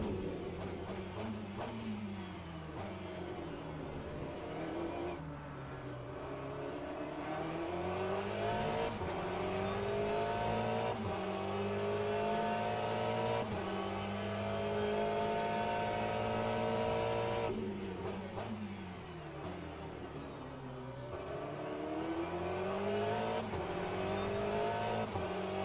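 A race car engine in the Le Mans Ultimate sim during an online beginner daily race, droning loud and continuous, its pitch climbing through each gear and dropping sharply at shifts, with no talk over it.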